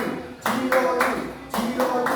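A class of school pupils claps a scout clapping pattern in unison, several loud rhythmic bursts of many hands in groups, close by, mixed with voices chanting along.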